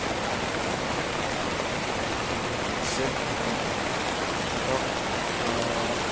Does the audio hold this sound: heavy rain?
yes